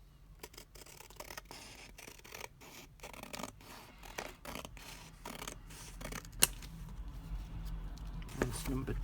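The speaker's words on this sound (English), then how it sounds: "just do it with a pair of scissors" Scissors snip through paper for an envelope journal, a series of close, crisp cuts at an uneven rhythm with soft rustling between them.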